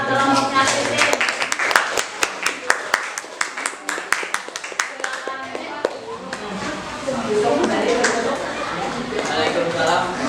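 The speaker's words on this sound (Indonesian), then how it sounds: "tepuk tangan buat kelompoknya Kikin" Clapping for Kikin's group at a teachers' coaching session on academic supervision: a burst of scattered, fairly close claps for about six seconds, then mixed with people talking.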